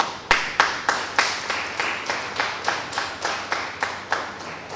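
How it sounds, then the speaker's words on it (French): A thin studio audience claps to welcome guests onto a talk-show stage, about a dozen even, rhythmic claps in a steady beat, close and moderately loud, with no cheering. "J'estime que c'est vraiment maigre cet applaudissement-là"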